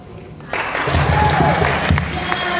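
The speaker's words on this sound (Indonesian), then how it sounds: "Kita berikan tepuk tangan yang paling meriah kembali lagi." Lively audience applause following a performance at a youth church competition, a steady loud wash of clapping that starts abruptly and holds throughout, with a voice faintly audible underneath.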